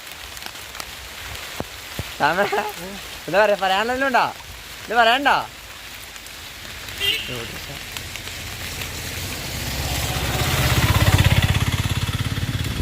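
A dense hiss of heavy rain in a forest fills the background, swelling louder near the end, while someone talks briefly over it early on.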